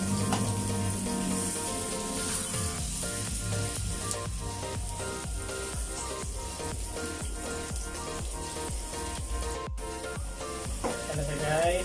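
Garlic sizzles and fries in a pan for sweet and sour tilapia, a steady crackling hiss with faint stirring clicks throughout.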